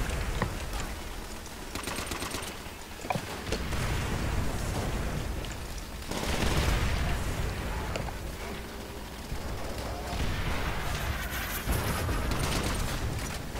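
Dense, chaotic gunfire and explosions crackle and boom continuously in a Left 4 Dead zombie shooter match, loud and busy throughout with no clear talking.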